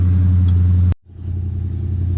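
A Dodge Charger Scat Pack with a Carven exhaust and black ceramic tips idles loud and close with a deep, steady burble, then cuts out abruptly before the low drone picks back up and settles.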